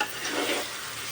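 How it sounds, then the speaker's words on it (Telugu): Soya chunks (meal maker) being stirred in a frying pan for a vegetable soya dum biryani, a brief close scraping and sizzling stir with steady hiss, no voices. "అడుగు నుంచి కలబెట్టుకోవాలి మీల్ మేకర్ వేశాక."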